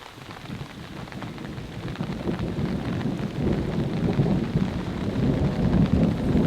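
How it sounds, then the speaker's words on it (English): Steady heavy rain with low rumbling thunder rolling underneath, building slightly louder over several seconds; no voices. "Sounds like there's another big storm out there."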